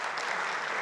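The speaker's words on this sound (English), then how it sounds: "Let's give a clap" A brief, soft burst of steady clapping from an audience of children, parents and teachers, heard at a distance.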